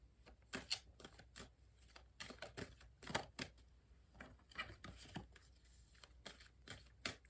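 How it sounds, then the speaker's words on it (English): Rapid riffling and slapping of tarot cards, repeated in short bursts with brief pauses, close and fairly quiet, no voices. "give me one moment to shuffle these"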